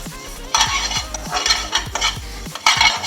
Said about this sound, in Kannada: ಫಸ್ಟು ಧನಿಯಾ ಹುರ್ಕೊಳ್ಳಿ